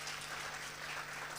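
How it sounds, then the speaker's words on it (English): Audience at the VUKA ARTS Creative Summit applauding speaker Rasta: a dense, steady wash of clapping from many hands, loud and continuous from start to end with no voices over it. "let's give a round of applause to Rasta and thank him"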